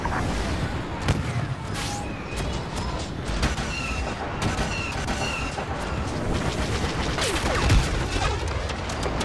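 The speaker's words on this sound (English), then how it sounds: "Rebel airstrike incoming!" A Rebel airstrike in a Star Wars Battlefront game brings dense, continuous gunfire and rumbling explosions. Blaster-like zaps and booms pile up loudly without a break.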